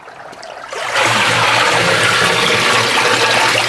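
A sack of ginger seed is lifted out of a treatment solution and liquid pours and drains from it in a steady, loud rush that swells after the first second and keeps running close by.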